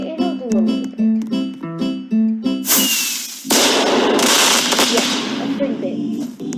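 Firework ability explosions in a video game: a burst of loud crackling blasts and sizzling pops follows a short stretch of musical tones, the noisy explosions filling the second half.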